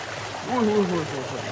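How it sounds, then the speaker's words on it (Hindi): Cold water pours into a swimming pool with a steady rushing wash, while someone talks over the flow. "बाकी ये पानी आ रहा है भाई, ये एकदम ठंडा ठंडा पानी है भाई, बिल्कुल ठंडा।"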